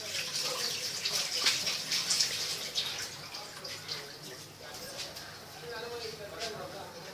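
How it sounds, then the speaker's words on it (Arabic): Hands are washed under running tap water in a home kitchen while cupcakes are being decorated. The splashing stream hisses loudly at first and then eases to a softer, steady flow. "غسل يدي داتي وانا جايه"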